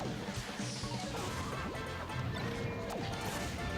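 A smash attack lands in a Super Smash Bros match: a loud crashing impact with sharp whacking hits and quick sweeping swishes, dense and continuous over busy game sound, with no voice in it.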